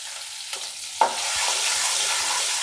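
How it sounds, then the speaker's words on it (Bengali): Peanuts and chilli fry in hot oil in a pan: a couple of clattering drops and knocks as they go in, followed by a bright, steady sizzle that holds at close range with no talking. "এবার একটু বাদাম ভেজে নেবো এতে, সেই সাথে একটু লঙ্কা দিয়ে দিলাম।"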